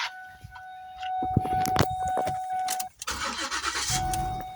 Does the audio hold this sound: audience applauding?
no